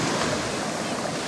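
Sea waves wash up on the beach at Praia de Silvalde, a loud, continuous broadband roar of surf mixed with wind buffeting the microphone, close and steady throughout with no talking.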